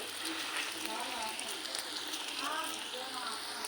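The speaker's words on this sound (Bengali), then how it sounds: "বন্ধুরা আমি এইভাবে ভেজে নিব সব কটা প্যাটিস আস্তে আস্তে জাল দিয়ে" Chicken and egg patties shallow-frying in oil over low heat, giving a steady soft crackle and sizzle throughout, faint and continuous with no clear speech over it.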